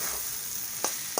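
A spoon stirs spices and soya chunks in a hot frying pan, over a steady soft sizzle, with two short scraping strokes near the end, close and with no talking.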